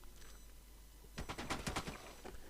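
Gunfire in the PUBG video game on the Erangel map: a quick burst of several sharp shots in rapid succession, fairly distant and faint, following a quiet lull.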